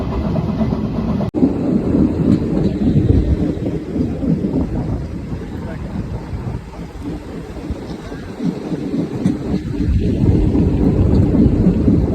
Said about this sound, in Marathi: पाऊस पण आहे थोडं